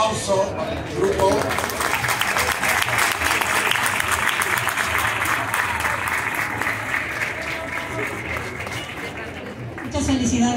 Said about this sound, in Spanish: Fuerte aplauso para el grupo.